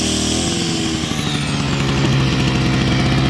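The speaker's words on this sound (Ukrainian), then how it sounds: "Генератор, коли чує навантаження, відразу додає обертів двигуну." A small portable generator engine runs steadily and loudly close by under load, its drone rising slightly in pitch as it revs up and holding a constant, busy hum.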